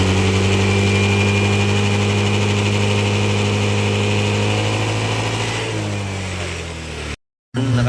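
A Yamaha Mio i 125 scooter engine with a weak charging system revs steadily up close, holding a high, even pitch that eases back near the end before a brief dropout.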